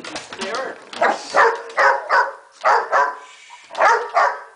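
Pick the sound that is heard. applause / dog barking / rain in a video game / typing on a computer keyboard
dog barking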